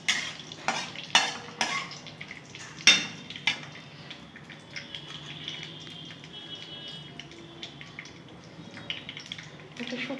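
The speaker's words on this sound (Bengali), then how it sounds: "জিরে ফোড়ন দিয়ে দিলাম। নাড়াচাড়া করে নেব ফোড়নটা।" Cumin seeds tempering in hot oil in a cooking pan, stirred with a utensil that clinks and scrapes against the metal several times at the start, over a steady low sizzle.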